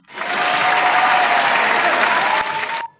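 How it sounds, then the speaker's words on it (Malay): Canned applause sound effect fired from a keyboard hotkey in OBS streaming software: a dense, steady wash of many hands clapping with crowd noise, loud and alone for about three seconds before cutting off cleanly. "bunyi orang tepuk tangan terhasil"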